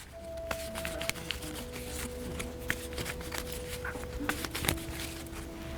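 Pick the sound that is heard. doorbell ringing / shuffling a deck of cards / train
shuffling a deck of cards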